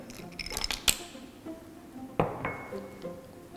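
Spoon stirring chocolate and butter in a pot for Turkish supangle pudding: sparse metallic clinks and scraping taps, a couple of them sharp, with no voices.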